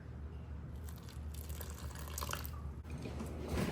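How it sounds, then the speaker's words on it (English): Water runs steadily into a bowl of baking mix and salt for tortilla dough, a soft continuous trickle and splash close by with no voices. "So I am going to slowly add in water."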